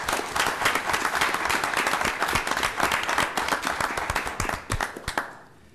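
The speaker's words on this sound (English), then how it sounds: "Let's give them a round of applause" A city council meeting audience in Kaysville applauds: dense, loud clapping from many hands for about five seconds, then it tapers off quickly and fades out.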